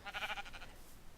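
Sheep bleating in Minecraft, a single wavering 'baa' that comes in a few quick pulses and then fades, heard faintly and alone.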